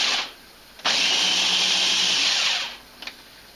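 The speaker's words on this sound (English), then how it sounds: "grind up the walnuts and the cauliflower" A food processor grinds walnuts and cauliflower in a close, loud whirring burst of about two seconds, with quiet pauses before and after and no talk.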